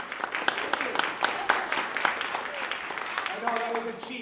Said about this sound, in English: I know that was a cheap round of applause